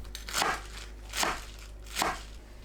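Knife chopping napa cabbage into strips on a cutting board, three crisp crunchy cuts spaced about three-quarters of a second apart, close and clear with no talk.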